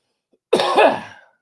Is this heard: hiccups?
yes